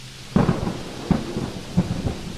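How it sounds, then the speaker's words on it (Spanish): Three sharp rumbling thunder cracks roll in over steady rain, each followed by a fading low rumble. "El único ruido que quedó fue el de un relámpago que hizo vibrar los cristales"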